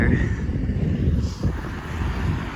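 Steady wind buffeting a microphone outdoors on a breezy day near a town square, a continuous low rumble with gusty swells throughout and no clear speech.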